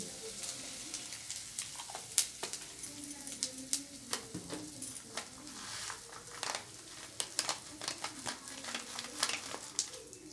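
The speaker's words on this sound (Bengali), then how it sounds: "ওই তেলের মধ্যে আমি 1 চামচের মতো আমি হিং দিয়ে দিলাম।" Asafoetida sizzling in hot oil in a pan while cooking a potato and pumpkin curry, a faint steady hiss dotted with many sharp crackles and pops, close by.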